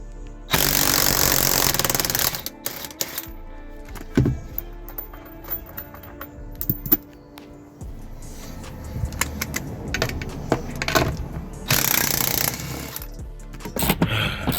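Two loud bursts from a powered ratchet removing bolts buzz in near the start and end, with clicking, metallic clinks and tool clatter in between.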